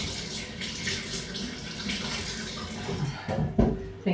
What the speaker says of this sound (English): I think hands wash.